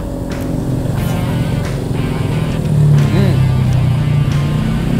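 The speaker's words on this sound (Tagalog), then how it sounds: "narinig mo yung ingay nung ano, mga tricycle, mga jeep." Steady road traffic from tricycles and jeeps on a highway beside a street food stall, a continuous low engine rumble that swells slightly midway, with background chatter.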